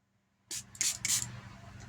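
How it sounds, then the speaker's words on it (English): Three quick hissing spritzes from a fine-mist oil spray bottle, each a short soft puff of fine mist, close and fairly quiet. "This is a spray. Look, very fine mist."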